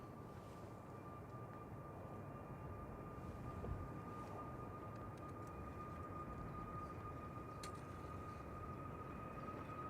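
A Ryanair Boeing 737 MAX 8 departs Manchester Airport, heard as a faint, distant, steady jet roar with a thin high whine running through it.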